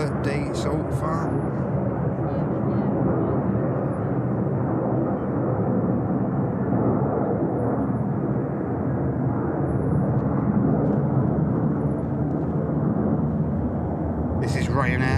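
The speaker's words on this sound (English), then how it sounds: "Flight 3068 aircraft in from Rome, performing the second go around we've seen of the day so far." Ryanair jet arriving from Rome and going around on runway 05 right at Manchester Airport, a sustained, steady engine roar holding loud for the whole stretch, with a voice talking over it.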